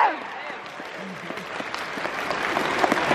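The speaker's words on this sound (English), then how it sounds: "And now everybody, start to clap." A convention audience at an anime-style fan event claps on a host's cue, a dense wash of applause that rises slightly over a few seconds, with no speech over it.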